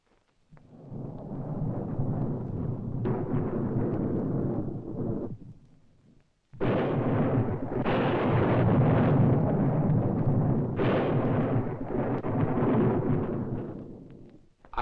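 Thunder during a storm at night: two long, loud rolling rumbles separated by a short silence, the second building into a sustained crashing roar with sharp cracks inside it.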